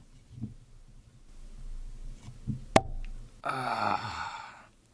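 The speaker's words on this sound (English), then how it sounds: "For a synthetic cork, that was a very nice, deep, resonant bottle pop" A synthetic cork pops from a bottle of Knob Creek 12 Year Cask Strength whiskey held close to the mic, one sharp deep pop followed by a short ringing hiss and faint handling.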